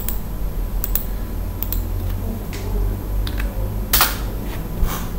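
Keys clatter on a computer keyboard as a Linux command is typed, scattered close clicks and a few sharper taps over a steady low hum, with no talk.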